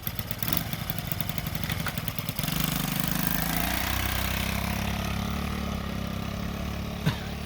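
A John Deere 750 tractor's engine runs choked with a suspect carburetor, a loud, steady idling drone that starts rough and uneven, then settles into a continuous low hum with one brief sharp tick near the end.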